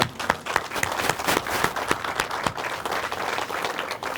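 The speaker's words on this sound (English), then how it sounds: "Let's give a round of applause for" A crowd applauds continuously at a ribbon cutting, many hands clapping loudly in a dense, steady patter with no talking.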